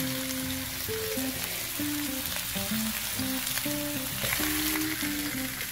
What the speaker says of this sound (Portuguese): E frite as peças de carne de todos os lados até que ela fique bem douradinha.